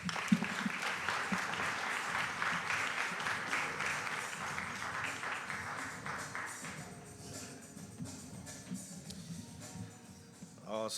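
An audience at an evening event in Atlanta applauds the moderator, steady sustained clapping lasting nearly the whole stretch and gradually easing, with voices mixed in underneath.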